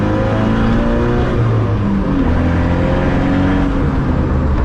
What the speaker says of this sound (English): This car likes to be driven hot, so I always make sure that it's very well warmed up prior to taking it out.